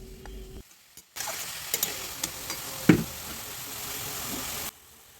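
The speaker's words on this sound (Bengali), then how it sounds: "নুন দেওয়ার পর আবার ভালোভাবে এটা নেড়েচেড়ে নেওয়া হচ্ছে" Kohlrabi curry (olkopir ghonto) being stirred in a pan after salt goes in, a soft steady sizzle with scraping and a few spoon knocks against the pan, starting after a short quiet gap and cutting off near the end.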